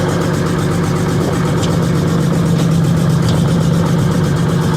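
A warmed-up prewar Greyhound bus engine idles on a cold day around 30 degrees, a loud, steady low rumble with an even pulsing throb and no pauses.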